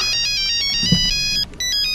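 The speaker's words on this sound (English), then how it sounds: "My phone is ringing." A phone ringtone sounds up close, a loud looping electronic melody of quick high notes that pauses briefly near the end, with a soft low bump in the middle.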